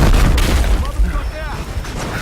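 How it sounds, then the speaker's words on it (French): A deep boom from an explosion in the video game Battlefield Hardline rumbles loudly with a crackling tail, and someone talks over the end of it. "il va y avoir une belle explosion"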